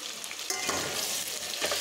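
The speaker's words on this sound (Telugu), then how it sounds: "ఆల్రెడీ నేను మ్యారినేట్ చేసిన చికెన్ అనేది ఫ్రై చేసుకుంటున్నాను అనమాట" Marinated chicken frying in a pan gives a loud, dense, continuous sizzle with occasional stirring and scraping sounds layered on top, close up and without speech.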